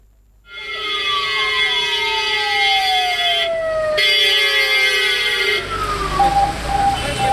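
An ambulance siren wails loudly nearby during a flood damage inspection in Tirunelveli, its tone sweeping repeatedly downward as it passes. Traffic rumble rises at the end, and there is no speech.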